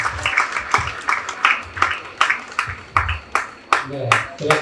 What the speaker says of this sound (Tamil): சிறப்பாக பேசிய ரம்யா அசோக் அவர்களுக்கு இன்னொரு முறை கைத்தட்டலாம்